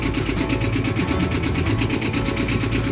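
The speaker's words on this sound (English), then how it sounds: "Engine's running." A sailboat's inboard engine runs close by with a steady, rapid chugging pulse and a dense mechanical rattle, even in loudness from start to finish.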